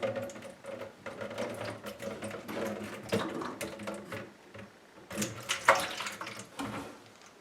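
Water trickling and splashing from a disconnected drain pipe under a bathroom vanity, uneven bursts of dribbling and dripping close by, with some handling noise.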